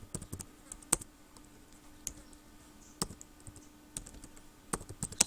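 Typing HTML table code on a computer keyboard: sparse, soft key clicks at an uneven pace with a few sharper taps standing out, recorded close in a quiet room with no talking.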